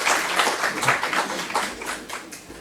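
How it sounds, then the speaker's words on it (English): A conference audience applauds after a day of presentations at a national awards event, a dense wash of many hands clapping steadily for a few seconds, moderately loud and fairly close, with no one speaking. "So a big round of applause for all of you."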